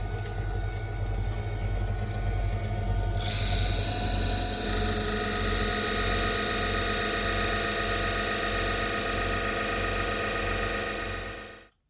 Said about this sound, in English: now we're going to split the wood so we have the lid and then the main body separate